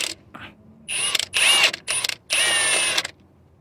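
A ratchet wrench works a 12mm bolt on the small steering shaft of a Toyota RAV4 with a failing rack and pinion, clicking in four or five close, loud bursts separated by short pauses.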